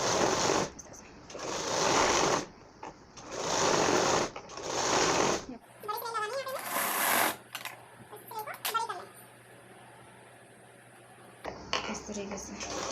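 A sewing machine stitches a blouse strip in several bursts of fast mechanical whirring separated by short pauses, then a stretch of quieter handling and clicking sounds with someone talking over them.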